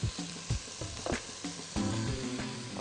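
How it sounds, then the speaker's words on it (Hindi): Garlic frying in a hot pan after two tablespoons of white vinegar are poured in, a busy sizzle with crackles and scraping stir strokes, close and steady. "लहसुन को पैन में डालकर आप ऊपर से 2 टेबलस्पून सफ़ेद सिरके के पैन में डाल दें"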